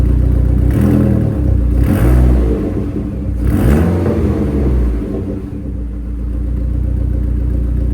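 An SRT4-swapped Dodge Dakota pickup with full 3-inch exhaust and a Flowmaster FX muffler revs loudly up close, its engine swelling through several rises and falls over a continuous deep, boosted rumble.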